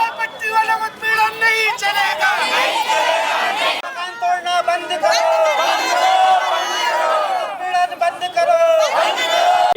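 A large protest crowd against encroachment gathers outside the sub-divisional magistrate's office in Haldwani, a loud, continuous babble of many voices with shouting and chatter filling the scene close by.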